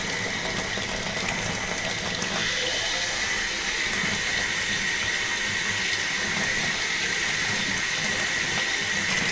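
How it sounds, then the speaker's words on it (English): Water running steadily from a sink tap in an old abandoned bank building with newly rebuilt plumbing, a continuous hissing rush of even loudness that carries on throughout. "I'm gonna turn the water on."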